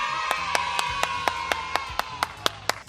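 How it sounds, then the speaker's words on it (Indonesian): Steady rhythmic hand clapping at an online children's church service, about a dozen sharp claps in even succession, with a sustained tone and low background murmur underneath. "Beri tepuk tangan yang meriah."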